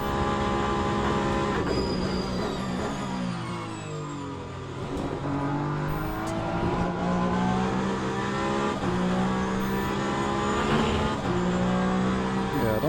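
Race car in the video game Le Mans Ultimate, its engine revving up and down through gear changes with tire noise, loud and continuous. A quiet voice can be heard faintly underneath.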